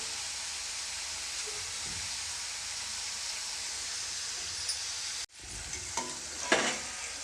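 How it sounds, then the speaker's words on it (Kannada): Potato slices frying in oil for homemade chips, a dense steady sizzle and hiss that drops out suddenly, then quieter crackling with a few stirring clinks. "ಆಲೂಗೆಡ್ಡೆ ಲೇಸಸ್ಸನ್ನು ಎಣ್ಣೆ ಒಳಗಡೆ ಹಾಕ್ಕೊಳ್ತಾ ಇದ್ದೀನಿ"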